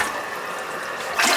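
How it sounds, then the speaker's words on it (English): A toilet with a suspected blockage flushes after its handle is pushed and released, a steady close rush of water swelling louder toward the end, with no talking. "We'll flush it again. I'm just going to push the handle and release it."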